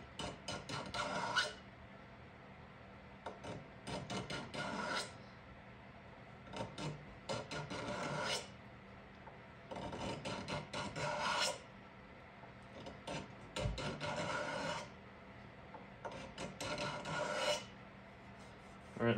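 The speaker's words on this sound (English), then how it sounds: "all I'm gonna do is take that knife and just scrape all of that off." Repeated knife scraping across a wooden axe handle to strip off the old finish, coming in rhythmic bursts of raspy strokes separated by short pauses, close and fairly loud with no talking.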